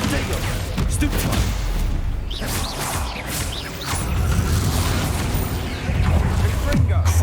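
Repeated spell blasts from Confringo and Bombarda in the Hogwarts Legacy video game, loud booming bursts and crashes packed closely over dense game noise with a continuous low rumble.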